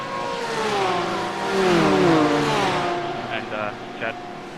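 GT3 race cars in a racing video game driving hard toward the finish line, their engines droning and shifting pitch continuously at close range before easing off, with a few faint clicks near the end.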